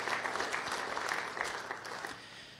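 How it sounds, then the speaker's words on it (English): A members meeting audience breaks into a round of applause, a dense wash of many hands clapping at moderate distance that holds steady and then slowly tapers off. "I think it's worth a round of applause"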